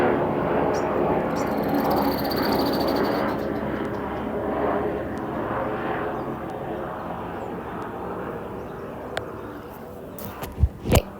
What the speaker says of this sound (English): don't mind the helicopter going above me.